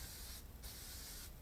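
Bursts of aerosol spray paint hiss onto a curbside Art Deco dresser being restored, two sustained sprays separated by short pauses, close and fairly faint.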